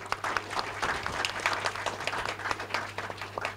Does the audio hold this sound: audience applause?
yes